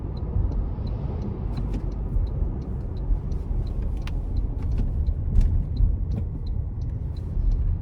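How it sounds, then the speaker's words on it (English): 2025 Toyota Tacoma SR pickup accelerating in manual shift mode, heard from inside the cab as a steady low engine and road rumble with faint regular ticking above it, no voices. "we are gonna put it into the manual mode and see how it does getting up to speed here"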